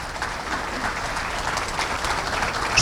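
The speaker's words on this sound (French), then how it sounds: "Et on peut l'applaudir" An audience at the close of a French teaching review presentation claps steadily, a moderate, even patter of many hands swelling slightly at the very end.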